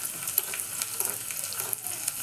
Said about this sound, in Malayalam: വറ്റൽമുളക് ഇട്ട് വേണം നമ്മൾ മൂപ്പിക്കാം